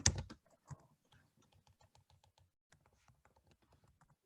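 Typing on a computer keyboard indoors, a couple of loud clacks at the start followed by a steady run of quieter, rhythmic key presses, close to the microphone with no talking.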